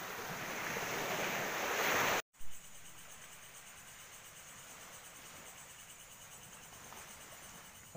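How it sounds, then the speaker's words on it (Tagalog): Sea waves wash onto the shore in a steady, soft surf hiss with wind rushing over the microphone, louder at first, then fainter after a brief cut, with no voices. "Nandito po kami sa tabi ng laut. Dagat."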